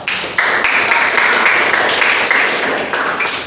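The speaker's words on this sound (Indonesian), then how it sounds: "Tepuk tangan untuk kita semuanya." Applause from a school class at a civics quiz, a steady dense wash of clapping that stays loud and even across the whole stretch, with a few sharper taps standing out near the start.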